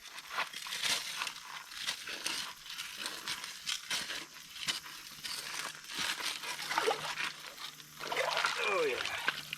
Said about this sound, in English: we got water up over the classifier